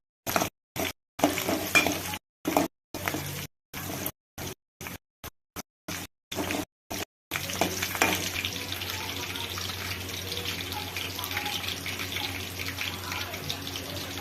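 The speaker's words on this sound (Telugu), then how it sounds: "రెండు రెమ్మల కరివేపాకు వేసుకోవాలి. ఒకసారి కలుపుకోవాలి." Curry leaves crackle and fry in a pan of oil for egg fried rice, with a spoon stirring them; early on the sizzle comes in choppy bursts separated by silence, then a steady, close frying hiss carries through.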